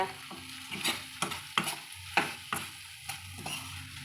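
Drumstick (moringa) dry fry being stirred in a pan, a series of scraping, clattering spatula strokes over a soft sizzle, close and fairly quiet, with short pauses between strokes.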